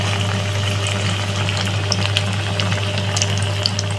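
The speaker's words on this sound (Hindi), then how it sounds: "ये फिश फ्राई हो रहा है" Battered fish pieces fry in hot oil for a crispy fried fish dish, giving a steady, close, even sizzle and bubbling with a faint low hum beneath and no talking.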